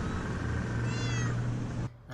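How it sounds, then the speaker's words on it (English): An annoyed cat at a temple in Bangkok lets out one long, loud, close meow against steady background noise, which cuts off abruptly near the end. "the cat was like so annoyed with me."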